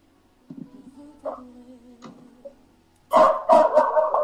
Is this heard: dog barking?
yes